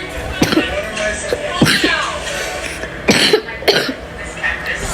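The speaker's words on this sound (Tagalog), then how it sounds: "may ubo lang kasi ako." Several sharp, loud coughs from a nearby person in a short sequence, spaced irregularly over a few seconds, with faint game audio underneath.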